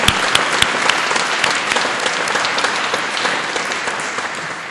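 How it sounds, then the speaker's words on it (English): An audience at a religious environmentalism gathering breaks into loud, sustained applause for the event organizers, a thick wash of many hands clapping that holds steady and tapers slightly toward the end. "They all deserve a round of applause too"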